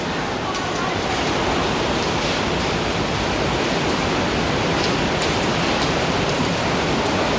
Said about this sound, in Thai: เจอแบบว่าพายุลูกเห็บหล่นนะคะ